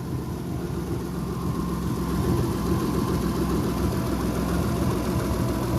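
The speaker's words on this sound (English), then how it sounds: "A little bit of an exhaust leak." A Subaru SVX engine idles steadily and close with a small exhaust leak, a low rumbling drone with a faint ticking puff running through it, no voices.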